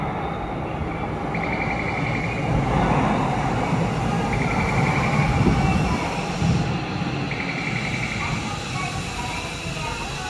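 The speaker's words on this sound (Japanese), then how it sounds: "今回私が乗ってる各駅停車を追い抜かす回送列車がやってきました" A Keio 8000 series out-of-service train passing a stopped local at a station, heard as a sustained rumbling roar that swells in the middle and then eases off, with a faint repeating tone in the background.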